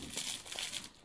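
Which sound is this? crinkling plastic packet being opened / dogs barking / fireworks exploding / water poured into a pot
crinkling plastic packet being opened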